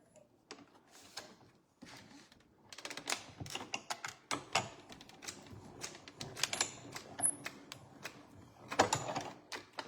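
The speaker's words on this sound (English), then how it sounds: "now I'm just gonna cut this little piece right here" Small piece of paper cut by hand for a card, with a run of close, crisp snips and rustles starting faintly and growing busier, with no talk.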